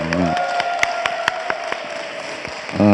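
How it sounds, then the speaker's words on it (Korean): A church congregation gives scattered claps for a brother during a worship service, the sharp hits sparse and fairly near, with a voice heard briefly at the start and the end. "큰 박수 한번 부탁드립니다"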